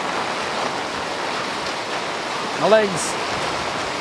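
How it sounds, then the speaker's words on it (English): Heavy typhoon rain on a Taipei street at night, a dense steady roar of downpour and wind-driven spray, with a brief spoken voice and a short whistle-like sweep partway through. "The rain's going sideways."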